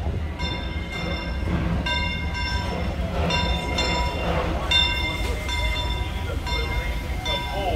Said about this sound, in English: I heard the train. I came running.